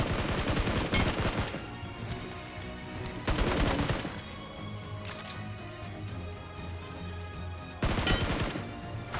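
Bursts of gunfire from a BGMI mobile battle royale fight, several loud rapid volleys separated by quieter stretches of game ambience, with no voices.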